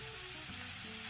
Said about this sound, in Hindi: इसे हमें हाई फ्लेम पे अच्छे से स्टर करना है।